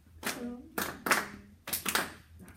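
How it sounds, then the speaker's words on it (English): Choir singers clap a short rhythm together, four sharp bursts of group clapping in an uneven pattern, with voices speaking and a child-like voice between claps. "All right, real quick, clapping that rhythm. 1, 2, ready, clap"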